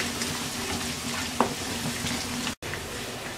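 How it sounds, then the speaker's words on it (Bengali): Two medium chopped onions fry in oil, giving a soft, steady sizzle with one brief scrape of a spoon partway through; the sound is quiet and close, with no voices. "এবার দিয়ে দিচ্ছি মিডিয়াম সাইজের 2টা পেঁয়াজ কুচি, 1/2 চামচ আমরা ব্রাউন কালার করে ভেজে নেব।"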